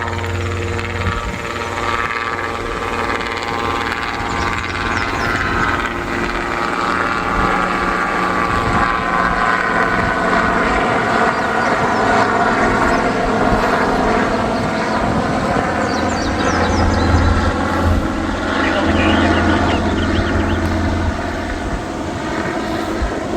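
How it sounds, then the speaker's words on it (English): A small helicopter approaches to land, its rotor and engine drone steady and fairly loud throughout, swelling slightly as it nears, with no talk over it. "But he's coming in for a landing."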